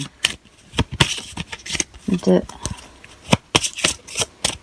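Tarot cards are shuffled and drawn, a run of crisp riffling flicks and sharp card snaps close by, broken by short pauses, with someone talking softly between the bursts.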